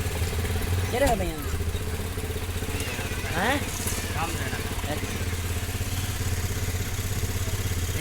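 Motorcycle engines idle and clatter steadily at an open-air motorcycle market, with a constant low throb and occasional revs as people talk nearby.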